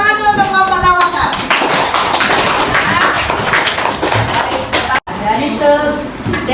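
Students in an Indonesian school classroom clap for a student group, a busy burst of hand claps and taps mixed with children's voices, with a short pause near the end before clapping and chatter resume.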